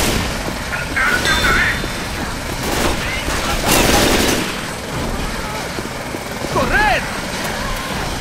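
Helicopter rotor din in the video game Left 4 Dead 2, a dense continuous roar mixed with bursts of gunfire and shouting voices throughout.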